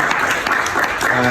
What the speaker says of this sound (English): give a round of applause to yourself for your own being here